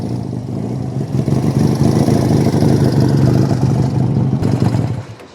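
A 1969 Honda CD175 motorcycle engine runs close and loud with a fast, even mechanical beat, holding steady before cutting off near the end.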